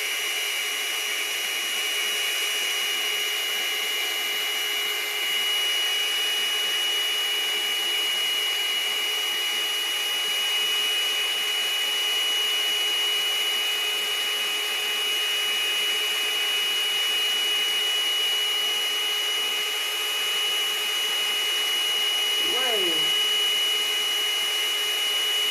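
A steady, loud air blower runs continuously at close range to push paint across a placemat for a spin bloom, an unbroken whooshing hiss with no pauses.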